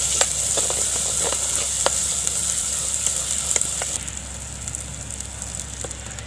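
Ground fish masala of pepper, garlic and cumin sautés for a village-style fish curry over a wood fire, a continuous close sizzle broken by sharp ticks and pops, easing slightly partway through.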